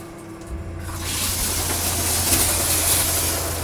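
Water spraying steadily from a newly installed RV shower head on its massage setting with strong pressure, a broad hiss that surges in about a second in and then runs loud and continuous, close by, with no talking.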